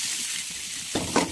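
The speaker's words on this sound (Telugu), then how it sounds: "ఆనియన్స్ కాస్త ఫ్రై అయినాక చిల్లీ వేసుకోండి." Onions and green chillies frying in a pan, a brief continuous loud sizzle with a short stirring burst near the end.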